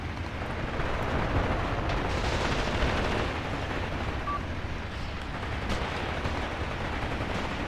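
In a Graviteam Tactics battle at a bridgehead, a gun fires at very close range amid a continuous roar of machine-gun fire and rumbling blasts, loud and unbroken.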